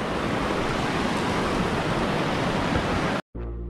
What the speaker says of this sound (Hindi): पानी का शोर आप लोग चेक कर रहे हैं।